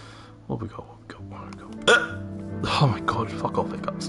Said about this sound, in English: Oh my god, fuck off, hiccups.